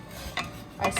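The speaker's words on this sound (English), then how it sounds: "I stir it." Hummingbird nectar stirred in a pot after heating, two short soft scraping swishes of a spoon against the pot, close and quiet.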